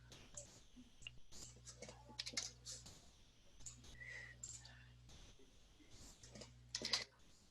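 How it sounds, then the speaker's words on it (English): Someone types on a computer keyboard, producing quiet, irregular keystroke clicks in short bursts over a faint background hum, with a trace of soft voice. "You may have some faster keystrokes than these for me."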